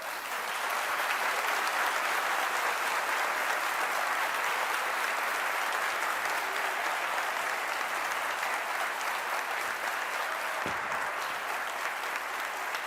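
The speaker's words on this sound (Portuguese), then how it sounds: "Dá um aplauso aí para Jesus." A church congregation applauds during a sermon, a long even wash of many hands clapping at steady loudness throughout, with no speech over it.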